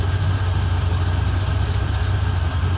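A classic car engine idling close by, with a steady deep low rumble and even pulsing throb and no talk over it; either a 1966 Dodge Charger or a 1957 Chevy Nomad.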